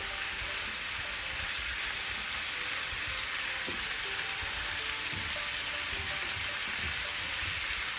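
A large chopped Spanish onion sizzles in a paella pan, a dense continuous frying hiss held steady for the whole stretch, close up with faint low clinks and no voices.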